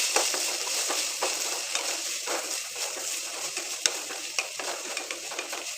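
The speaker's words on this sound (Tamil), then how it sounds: "உப்பு சேர்த்து ஒருக்க வதக்கி விட்டுக்கலாம்." Vegetables sautéing in a pan with salt added, a continuous sizzle broken by repeated scraping and stirring clicks of a spoon against the pan, close and moderately loud.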